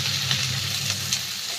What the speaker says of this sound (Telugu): ఇప్పుడైతే తాలింపులో ఇస్తున్నాను.